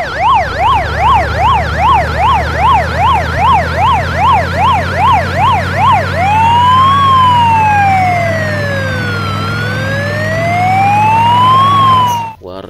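A toy ambulance siren wailing, first in a fast rapid-cycling warble and then in a slower rising and falling wail, loud and close over a steady hum, with no talk.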